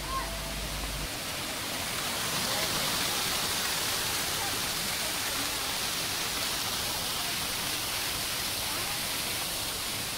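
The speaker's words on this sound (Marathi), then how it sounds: "पुन्हा आपल्याला दुसरा अतिशय सुंदर मन मोहून घेणारा धबधबा आपल्याला दिसतो" A waterfall near the Shirvel Mahadev temple in Khargone roars in a steady, dense rush of white water that holds at an even loudness for the whole stretch, with no voices over it.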